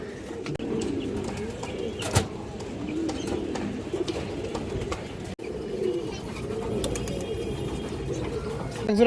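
Garra pigeons cooing in a loft, soft repeated low coos layered over one another, moderately close, with a busy background and a few sharp knocks.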